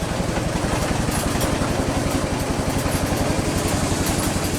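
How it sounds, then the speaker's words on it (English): An early-1900s steam engine runs off a Kewanee boiler, chuffing in a fast, steady, even rhythm that stays loud and close from start to finish. "So we've got this engine running"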